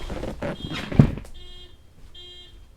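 A car alarm goes off outside during a hurricane, giving a few thin, steady electronic tones that pulse twice after a burst of nearby rustling and a thump, faint and set back from the room.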